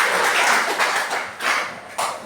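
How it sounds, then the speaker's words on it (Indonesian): A classroom of students applauds at the end of a biology lesson on the movement system, the clapping brisk and close, swelling in several short surges over a couple of seconds. "tepuk tangan untuk kalian semua"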